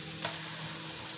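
Lamb sizzles steadily in a hot skillet with garlic, a close, even crackle of frying fat with one brief brighter spit early on.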